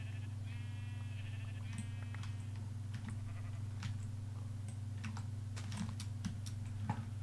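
Minecraft sheep bleating a few times in a modded game world, the wavering bleats standing out over a steady low hum, with quick clicks of computer keyboard typing scattered throughout.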